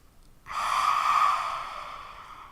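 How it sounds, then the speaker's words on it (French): A single slow, audible inhale through the nose during prenatal yoga, rising quickly to a soft rushing breath and fading gradually, close and quiet with no talk. "On inspire par le nez."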